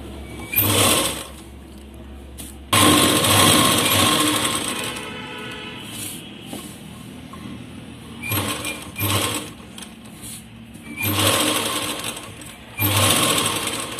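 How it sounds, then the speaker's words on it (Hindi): An electric sewing machine stitches around a blouse neckline in loud, close runs of rapid mechanical whirring, starting and stopping several times with brief quieter gaps between bursts. "और अब हम यहाँ से सिलाई लगाएंगे"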